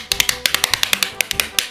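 A toy hand clapper clacks in a quick run of about fifteen sharp, bright snaps, close and loud, with brief pauses between groups.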